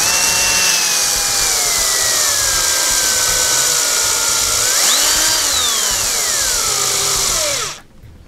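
A power screwdriver drives screws into an RC roll cage on an Axial EXO build, its motor whining steadily and loudly before the pitch dips and rises as the screw seats, then cutting off abruptly near the end.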